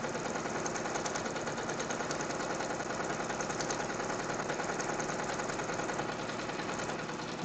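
An embroidery machine stitching out a design for a nativity tree skirt ring: a steady, rapid, continuous mechanical clatter, close and even throughout, with no talking.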